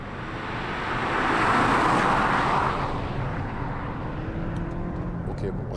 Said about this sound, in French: je vais me mettre en mode sport pour que vous compreniez. Alors, on va faire une petite accélération.